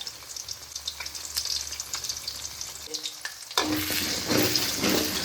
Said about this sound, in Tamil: எண்ணெய் நல்லா சூடாகவும் முட்டையை அப்படியே ஊற்றிக்கலாம்